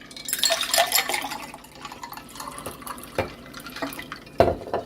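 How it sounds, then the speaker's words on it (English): Pink lemonade is poured from a container into a glass, a close splashing stream at first, then thinning into scattered drips and a few sharper clinks or splashes. "I'm going to pour some in a glass"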